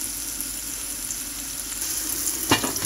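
Red onions fry in a pan in a continuous even sizzle, with one clunk of stirring near the end and no voices.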